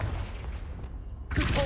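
The Confringo fire spell cast in the Hogwarts Legacy video game gives a sudden loud blast with a crackling burst that cuts in after a second of low ambient rumble.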